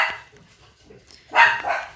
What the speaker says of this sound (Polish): Pieski muszę, muszą się trochę szczekać.